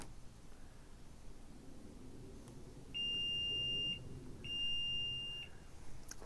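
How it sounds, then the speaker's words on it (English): Two clear electronic beeps, each about a second long with a short gap between, sound from a 2024 Nissan Pathfinder Platinum power liftgate as its stop position is set, heard over quiet background hiss. "you hold this button down until you hear 2 beeps"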